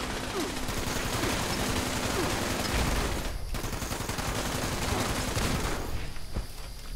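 Dense, loud gunfire in Fallout 76 as a player shoots a turret: a continuous rattle of rapid shots for several seconds, with a brief pause midway and game noise underneath.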